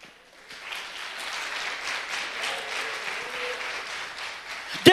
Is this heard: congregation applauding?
yes